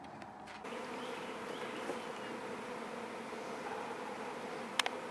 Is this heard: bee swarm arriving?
yes